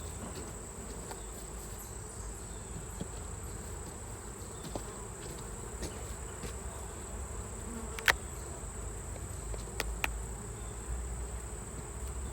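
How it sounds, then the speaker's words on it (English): Honeybees buzzing steadily around an opened, combined hive during an October inspection, a dense continuous hum close by with occasional sharp clicks and taps. "a ton of bees"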